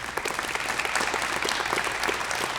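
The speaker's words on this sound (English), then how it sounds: "Can we give them a round of applause?" Steady applause from an audience at a press conference, dense clapping filling the room at even loudness throughout with no talk over it.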